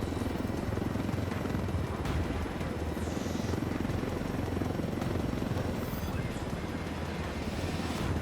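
A helicopter in Ghost Recon Wildlands flies with a constant loud rotor and engine roar that stays steady throughout.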